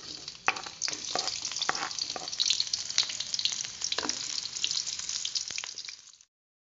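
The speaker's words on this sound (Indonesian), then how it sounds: "Terus kita tumis bawang merah," Shallots and garlic sautéing in hot oil in a wok for stir-fried papaya flowers with anchovies, a dense continuous crackling sizzle with scattered spatula scrapes, close and loud, ending abruptly.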